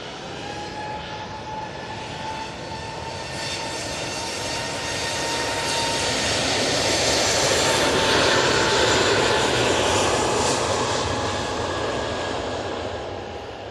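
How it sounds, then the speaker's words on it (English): An easyJet airliner departing toward Hamburg from Manchester Airport roars loudly and steadily, its jet engine noise swelling toward the middle and holding broad and close, with a faint tonal whine running through it and no talking. "easyJet A380 in the Europe car livery, going off to Hamburg"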